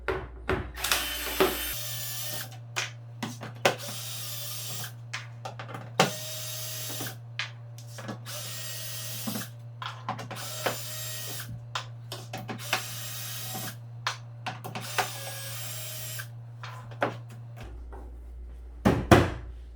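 A power drill set to speed 1 whirs steadily at low speed for most of the stretch, its motor hum accompanied by scattered clicks and knocks.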